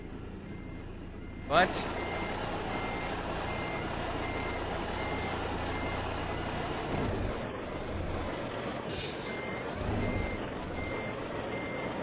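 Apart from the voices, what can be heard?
truck reversing beeps while backing in American Truck Simulator video game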